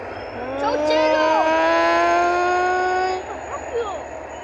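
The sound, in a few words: GT22 A911 locomotive hauling passenger train 9775 passing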